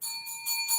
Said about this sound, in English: Oh, I hear a bell.